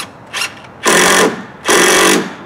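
Power drill driving fasteners into a pergola rafter on a deck: two loud, close, sustained whirring bursts of about half a second each, after a shorter, fainter first pulse, with no talk.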